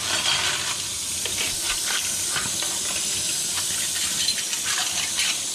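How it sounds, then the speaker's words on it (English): Soapy dishes rinsed under a running kitchen tap: a steady close hiss of flowing water with scattered splashes and light clinks of dishware throughout, no talking. "we just rinse them off."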